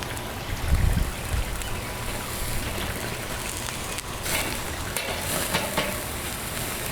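A sirloin steak fries in a hot pan, giving a loud, steady sizzle with crackling spatter throughout and an occasional faint scrape of utensils, with no voices.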